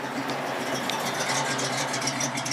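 A 1967 Ford Mustang Fastback S-Code with a 390 big-block V8 idles nearby through fairly new dual exhaust lines, a steady throbbing rumble with a slight rattle and no revving.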